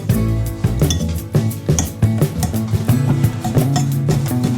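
Banana bread cupcake batter being mixed round and round in a bowl, with repeated light clinks and taps of the utensil against the bowl over steady background music.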